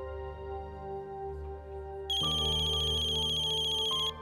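A mobile phone ringtone plays loudly nearby, a steady tonal melody that jumps to a brighter, louder pattern midway before easing back, with no talk over it.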